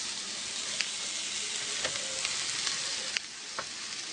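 Fideo noodles fry in a pan with a steady, bright sizzle, broken by a few sharp scrapes and clicks as they are stirred now and then, with no voices.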